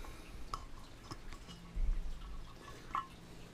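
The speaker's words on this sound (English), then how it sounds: "When you open that a little bit, water starts to drip out." Faint, sparse water drips fall inside a carbide miner's lantern as its valve is opened, a few soft isolated plinks spaced over a quiet background.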